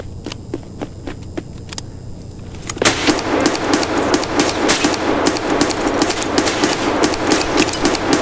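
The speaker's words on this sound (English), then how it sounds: "He's shooting at me through the wall." Rapid automatic gunfire in the video game Escape from Tarkov, sparse sharp shots at first, then a dense, loud, continuous burst of fire filling the rest of the stretch.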